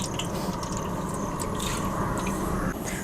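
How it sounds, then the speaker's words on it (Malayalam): Cooking oil poured into a pot already holding ghee, to cook rice for a large fish dum biryani: a steady, continuous liquid pour with a faint gurgle, close up and unbroken by talk. "അടുത്ത് നമുക്കിതിലേക്ക് ഓയിൽ ഒഴിക്കാം."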